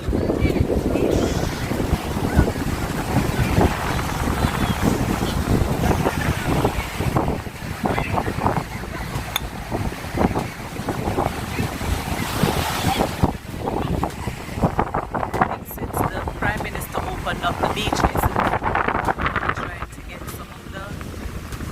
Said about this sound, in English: The beach is pretty.